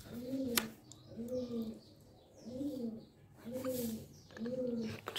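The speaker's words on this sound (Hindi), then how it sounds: "अच्छा, कबूतर है" A pigeon coos softly and repeatedly, five low rolling calls in a steady rhythm, faint and close, with light background noise.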